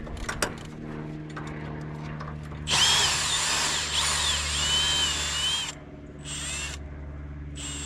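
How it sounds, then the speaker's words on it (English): A weak power drill whines loudly for about three seconds, stops briefly, then spins up again in two shorter bursts, with faint clatter beforehand. "This drill is too weak."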